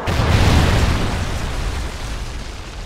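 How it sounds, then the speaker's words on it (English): Trinity rocket killstreak exploding in Call of Duty: Ghosts multiplayer, a heavy booming blast that swells early, then rumbles and fades into a long decaying roar. "Friendly Trinity rocket inbound."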